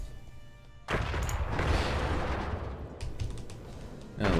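Weapon fire in the Worbital space strategy game: a sudden loud burst of dense, crackling blasts that starts after a quiet second, rolls on continuously for a few seconds, then swells again at the end.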